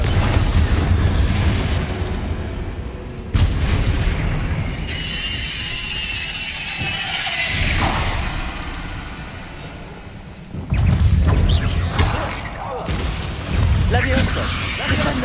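Confringo fire spell blasts in the Hogwarts Legacy video game, loud booming bursts during a spider fight, mixed with a character's spoken lines, game music and other spell effects.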